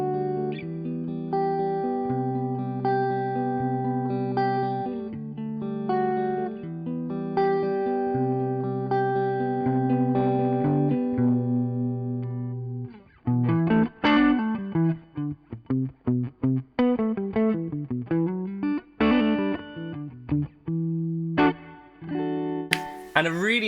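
Electric guitar played through a Fuchs Four Aces Dumble-style amp on its clean channel, with sustained chords giving way to plucked single notes and picked arpeggios, close and fairly loud, heard alone with no talk.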